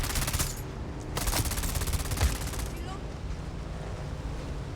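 Rapid automatic gunfire in the video game Dune Awakening rattles out in dense bursts over a steady rushing background, with a player speaking briefly.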